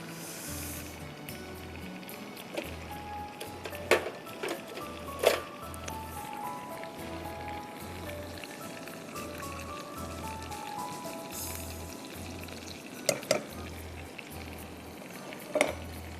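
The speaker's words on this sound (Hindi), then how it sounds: "इसमें हम डालेंगे कुटा हुआ लहसुन मक्खन में 1 टेबलस्पून।" Crushed garlic sizzles steadily in melted butter in a pan, a soft, even frying hiss that lasts throughout. A low rhythmic hum and a few faint clinks sit underneath.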